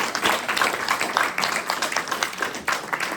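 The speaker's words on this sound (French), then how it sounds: "ça, c'était les petits applaudissements" A small audience claps politely for about three seconds, a dense patter of many hands at steady, modest volume with a little faint murmuring underneath.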